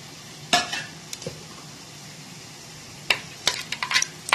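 Whole spices, bay leaf, cinnamon and cloves crackle and pop in hot oil and ghee in a pan, sharp scattered splutters and sizzles, a few early bursts then a livelier cluster near the end.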